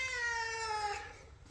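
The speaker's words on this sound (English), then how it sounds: "Come on, kitty, kitty." A single drawn-out cat meow, fairly close and clear, sliding downward and fading at the end.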